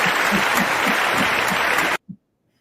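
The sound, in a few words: applause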